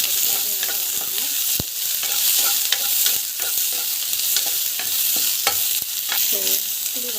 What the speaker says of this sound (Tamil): இப்போ டொமாட்டோ வந்து போட்டுருங்க. டொமாட்டோ போட்டு நல்லா வதங்கணும்.